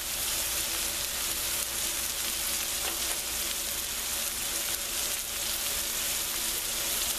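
Veal stew with garlic and fresh herbs fries in a pan as a dense, even sizzle that holds steady throughout at close range, with no voices.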